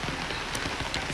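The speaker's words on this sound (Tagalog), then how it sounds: "Umuulan" Rain falls steadily on surfaces in the Philippine countryside, a dense close patter of drops with no voices.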